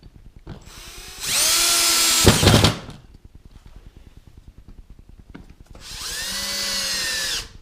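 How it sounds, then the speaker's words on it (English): Power drill driving the kit's own screws into a wooden expandable track table, two loud sustained whirring bursts separated by a quieter pause, close by. "I'm using the screws that came with the kit."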